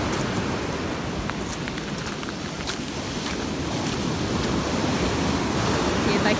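Ocean waves break and wash up on a Gulf beach after a hurricane, a loud continuous roar of surf close by with wind buffeting the microphone.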